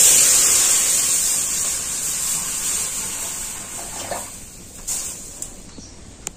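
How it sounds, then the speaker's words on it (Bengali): Milk poured into a hot kadai (wok), a steady watery pouring rush that is loudest at the start, then thins out into faint trickles and small splashes with no talking. "এবার কড়ার মধ্যে দিয়ে দিচ্ছি দুধ।"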